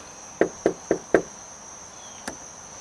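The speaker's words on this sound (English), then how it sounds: "And you can knock 4 times within a second." Four quick sharp knocks on an Ultraloq UL3 Bluetooth smart lock, evenly spaced within about a second, then one fainter tap, set against a steady high electronic whine and a quiet room.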